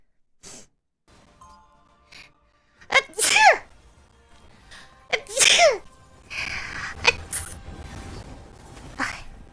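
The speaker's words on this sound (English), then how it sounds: "Double sneeze." Two sharp, close sneezes from a woman, a few seconds apart, each with a quick inhaled buildup and a loud burst, followed by brief murmured speech and small noises.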